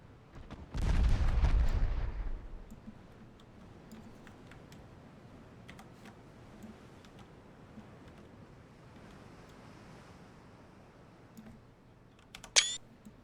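A single quick camera-shutter click from a screenshot in Ultimate Admiral: Dreadnoughts, a naval warfare game, snaps near the end after a loud burst and a long quiet stretch of faint ambient sea noise.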